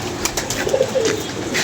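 Pigeons cooing nearby, several soft low coos repeating over a quiet background with no talking.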